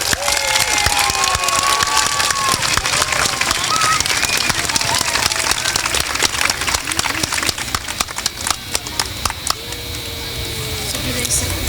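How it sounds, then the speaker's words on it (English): A school assembly crowd applauds the lower grade Golden Oak award winners, sustained loud clapping and cheering from many children and adults throughout. "So big round of applause, please."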